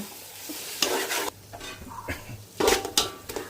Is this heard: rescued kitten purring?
no